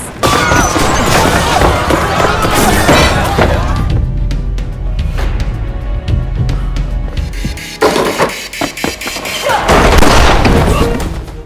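Loud bursts of gunfire and booming impacts crash together in a chaotic barrage, with a brief lull before another heavy volley; voices are faintly mixed in.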